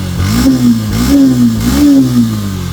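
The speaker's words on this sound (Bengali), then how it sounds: "খুবই সুন্দর আছে বাইকের সাউন্ড" A close Yamaha FZS version 2 motorcycle engine revs in three rising and falling pulses, a steady mid-pitched growl between throttle blips.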